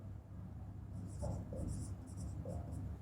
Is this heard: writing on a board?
yes